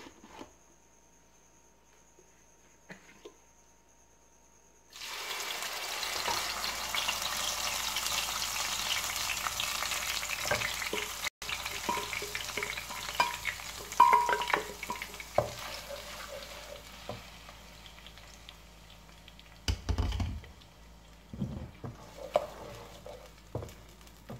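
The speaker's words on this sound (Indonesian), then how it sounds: "Sekarang kita tumis dulu bumbu yang sudah kita haluskan tadi." Ground spice paste hits hot oil in a pan with a sudden loud sizzle that keeps frying steadily, broken by occasional scraping and stirring clatters.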